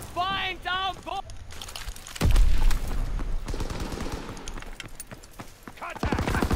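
Rifle and machine-gun fire crack in a WW2 shooter game, a booming shot followed by scattered rapid reports, with voices talking in between.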